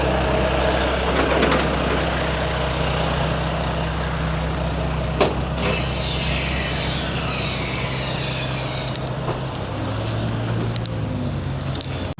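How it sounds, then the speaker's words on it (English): Trucks moving at the front gates of a slaughterhouse, heard as a steady, fairly loud low engine rumble with wind noise and a brief hiss like an air brake, with no talking. "This is the front gates for it where all the trucks be loading in and out."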